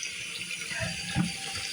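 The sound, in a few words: water trickling weakly from a tap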